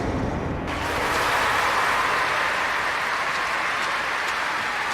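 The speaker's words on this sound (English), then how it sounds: "Crowd responding to that." A stadium crowd in the London 2012 video game swimming events reacts to a dive with a steady, loud wash of cheering and applause that swells in just after the start and holds without a break.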